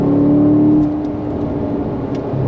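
A C7 Corvette Grand Sport's V8 engine revs loudly and close, holding a steady growl before dropping away at a gear change, then carrying on at a lower, rougher drone.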